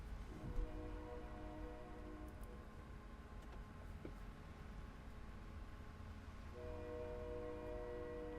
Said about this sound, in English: The sound of a real train.